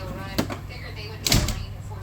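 A toolbox drawer slides open twice in a garage workshop during a tool tour, two short scraping rolls with a louder second pull, heard close over low room hum.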